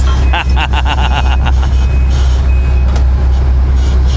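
A heavy truck working a septic install site runs with a deep, steady engine drone while a rapid series of reversing beeps sounds early on, then stops as the engine keeps rumbling.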